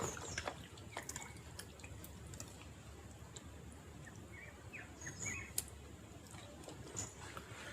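Orchid plant roots being washed in a container of water by hand, with soft continuous splashing, trickling and dripping close by, low and steady without speech.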